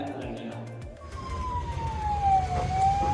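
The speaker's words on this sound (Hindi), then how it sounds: "अभी मैं एम्बुलेंस में हूँ, पहली बार एम्बुलेंस में बैठा हूँ।" Ambulance siren heard from inside the vehicle while a Covid patient rides to hospital: a steady wailing tone starts after a moment and slowly sweeps over road rumble, with a voice briefly at the start.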